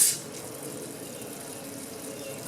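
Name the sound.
water pushing through a small engine's pump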